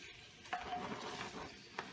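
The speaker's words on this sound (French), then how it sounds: "Et mélange le poulet" A spoon stirring chicken frying in oil in a pan, with a soft sizzle and a couple of brief scraping clinks against the pan, quiet and close.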